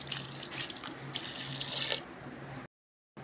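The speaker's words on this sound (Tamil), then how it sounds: "கொஞ்சம் காலம் தண்ணி ஊற்றிக்கிறோம்" Water pours steadily into a wet grinder holding raw rice for a couple of seconds, then abruptly stops.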